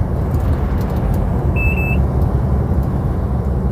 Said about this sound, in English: everything was beeping